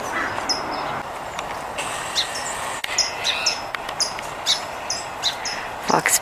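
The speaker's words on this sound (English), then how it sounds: "No, that's a song sparrow." Short, bright chirps and trills of a song sparrow repeat through a busy outdoor backyard-feeder scene, layered over a steady hiss of insects and other birdsong, with a few quick, louder notes near the end.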